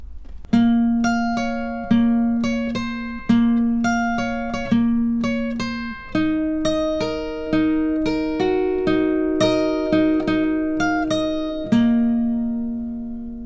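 A guitar plays a riff, clean plucked notes in a steady repeating pattern, each note ringing out and decaying. It is close and clear, with no voices.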